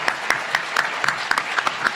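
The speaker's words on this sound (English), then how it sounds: "could we have another round of applause for our finalists and competitors?" An audience at a UC Irvine Law moot court competition final claps for the finalists and competitors, with loud, close, distinct claps in a fairly even rhythm and no talking.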